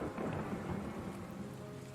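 Rain and low thunder from the video game Shadow of the Road, heard as a faint, steady wash of rainfall with a soft distant rumble underneath.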